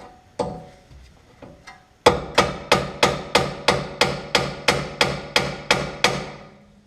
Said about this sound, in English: you're not going to be able to get a good hit on it with a hammer